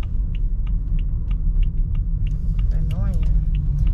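A car is driving on the road, a loud steady low engine and road rumble filling the cabin while people talk over it.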